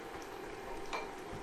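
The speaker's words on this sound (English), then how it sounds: "This induction cook is quick, you can already see it simmering." Tomato-based short rib ragu sauce simmering in a pot on an induction cooktop, giving a steady close bubbling and faint sizzle throughout with a brief louder pop near the middle.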